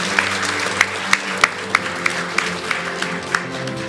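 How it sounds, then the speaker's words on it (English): An audience at a children's speech competition for the 9 to 10 age group applauds its finalists with steady clapping, sharper individual claps punching through regularly, and no talk over it. "let's have one more round of applause for all of our age 9 to 10 category finalists"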